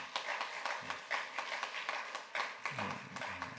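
Welcoming applause for a visiting pastor at a university chapel service: a modest crowd's fairly faint, uneven clapping with distinct individual claps, and a voice briefly heard underneath.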